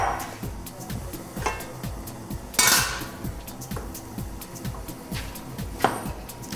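Pots of zucchini soup and peas are lifted out with pot holders, giving repeated light clanks and knocks of cookware against metal and stove, with a louder clatter midway and scattered clinks throughout.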